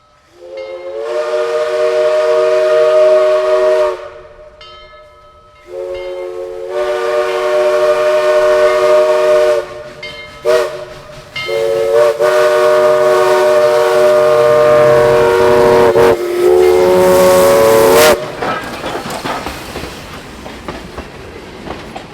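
The whistle of Southern Railway steam locomotive 4501 blows several long, loud blasts with short gaps between them at a road crossing, followed by the rumble and clatter of the passing train.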